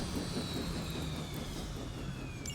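Steady engine roar of a helicopter in Marvel's Midnight Suns, a continuous broad loud drone with a slowly falling whine on top, heard alone without voices.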